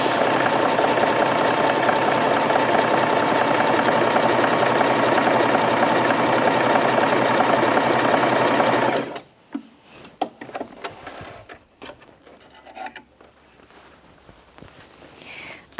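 Bernette 05 Crafter sewing machine sewing a blanket stitch, a loud steady mechanical whir for about nine seconds that stops abruptly, followed by quiet clicks and fabric handling.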